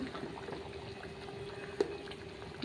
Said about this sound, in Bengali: এবারে ভালো করে ফুটতে দেবো।